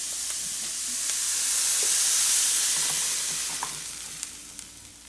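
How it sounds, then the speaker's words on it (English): Food being stir-fried in a hot pan produces a loud, continuous hiss that swells in the middle, with occasional light clinks of utensils and no talking. "Just like stir fry."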